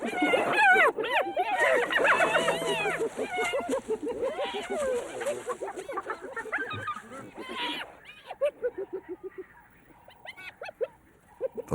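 A leopard in the wild gives low growls and rumbling vocalizations close by, a dense run of harsh grunts easing into softer, spaced snarls toward the end.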